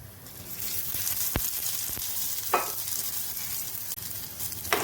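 Onion frying in a small amount of oil, a steady nearby sizzle with occasional stirring scrapes and knocks.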